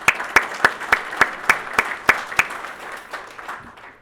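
Audience applause at a family business awards event, opening with sharp rhythmic unison claps that loosen into scattered clapping and fade out toward the end.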